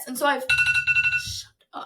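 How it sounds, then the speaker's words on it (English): Phone alarm going off as a repeating ringing tone in short pulses, loud and close, with a person talking over it before it cuts off. "That was my alarm."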